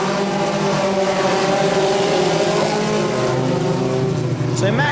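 A pack of junior sedan race cars accelerates off the line at a race start, engines droning loudly together with rising, overlapping revs, while a commentator talks over the noise.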